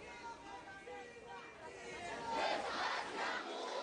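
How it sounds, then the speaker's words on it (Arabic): A street protest march against a military coup in Egypt, where a crowd chants slogans in unison, the voices rising louder and fuller toward the end and heard from some distance. "انطلقت مسيرة ردد المشاركون فيها هتافات منددة بالانقلاب العسكري"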